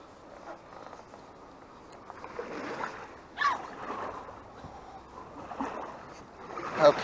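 An Old Town Pathfinder canoe moves through water with a solo seat, slow paddle strokes swishing and dripping at a gentle, uneven rhythm. Light wind sounds in the background.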